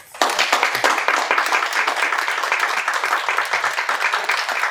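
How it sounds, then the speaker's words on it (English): An audience at a panel discussion on community-centred learning gives a round of applause, a dense, steady clapping from many hands that starts abruptly and carries on evenly throughout. "Round of applause."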